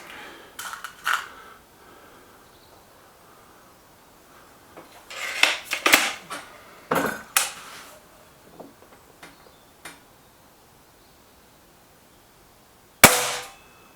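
Air rifles, an SMK Mod19 and a Webley VMX Quantum, fire at a target. Scattered sharp clicks and metallic knocks come in short clusters, ending with one loud, crisp crack near the close.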